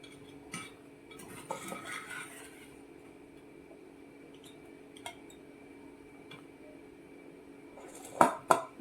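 Cooked jackfruit pieces for a clay-pot jackfruit biryani are moved onto a plate, with scattered light clinks of a utensil against cookware and a few sharper clacks near the end over a steady background hum.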